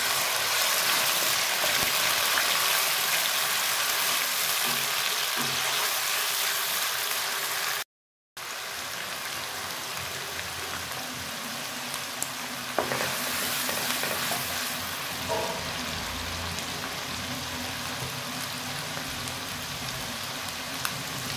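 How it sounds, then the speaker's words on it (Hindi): Steady, loud sizzling of ginger-garlic paste frying in hot oil, with occasional stirring scrapes and a brief silent gap partway through. "ऑयल हो चुका है गरम। इसमें अदरक और लहसुन का पेस्ट ऐड करेंगे"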